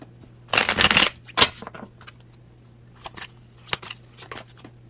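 Oracle cards from the Twin Flame Journey Oracle deck by Mystic Moon being shuffled up close: one long riffling burst, then several shorter flicks and taps, with no speech.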